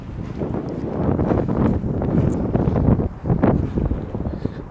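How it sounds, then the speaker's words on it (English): Gusty wind buffets the microphone during an outdoor city walk, a continuous low roaring rumble that swells and dips, loud and close, with no speech. "the wind's picking up. I apologize if the wind is really disruptive to the audio here."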